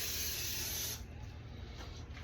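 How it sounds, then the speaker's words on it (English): A steady, hissing spray of cooking spray for about a second from an aerosol can nearby, then it stops, leaving quiet room noise. "With cooking spray."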